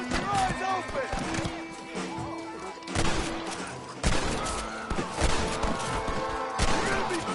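Gunfire in the Western video game Red Dead Redemption: several sharp shots and bursts crack out across a busy scene, mixed with shouting voices and music, fairly loud throughout.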